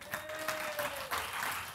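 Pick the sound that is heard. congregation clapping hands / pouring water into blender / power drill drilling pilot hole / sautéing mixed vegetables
congregation clapping hands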